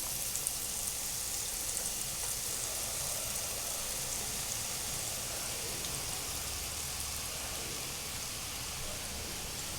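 Boondi batter sizzles in hot oil for a Christmas snack, a constant bright, crackling hiss at low volume with no voices over it.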